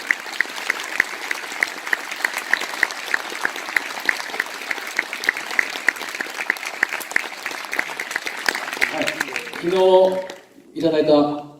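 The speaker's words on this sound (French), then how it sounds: "On peut l'applaudir, on peut l'applaudir." Audience applause at an interview event in France, a long sustained wash of clapping that stays even and loud before speech breaks in near the end.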